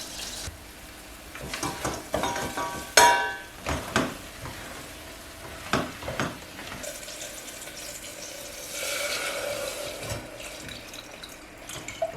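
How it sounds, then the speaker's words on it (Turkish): Tap water running into a sink while rice is washed, a soft steady flow broken by splashes and clinks of grains and a pot, close and fairly quiet with no talking. "pirincimi yıkayacağım."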